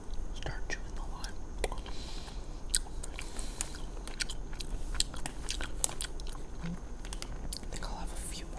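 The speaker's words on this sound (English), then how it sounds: "Start chewing the lime." Close, crisp chewing and biting of a lime-flavored Skittles gummy candy, with soft wet mastication sounds and occasional sharper crunchy clicks repeating steadily, accompanied by quiet whispering.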